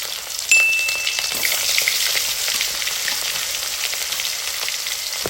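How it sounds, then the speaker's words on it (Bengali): Fish head pieces sizzle and crackle steadily in hot oil in a wok, a bright continuous frying hiss that jumps up sharply as they drop in and stays dense with small pops, no voices. "এখন একটা কড়াইতে পরিমাণ মতো তেল গরম করে এর মধ্যে আমি দিয়ে দিচ্ছি মাছ।"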